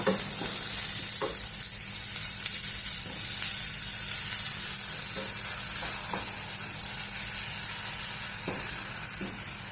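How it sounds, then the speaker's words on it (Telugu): Carrot, tomato and onion pieces frying in a pan for chutney, with a loud, steady sizzle and occasional soft stirring taps, close and continuous with no talk. "అన్నీ బాగా వేగిపోయినాయి క్యారెట్ ముక్కలు టమోటా ఉల్లిపాయలు అన్నీ"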